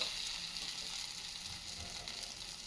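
Masoor dal dosa batter sizzles on a hot pan as one side browns, a steady, soft, even frying hiss running unbroken throughout with no voices.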